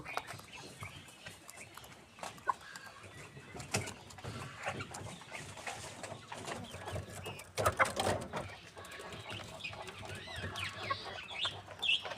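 Brahma chickens on a farm clucking and calling, with roosters and other birds mixed in, several overlapping close and distant calls over about twelve seconds, no speech.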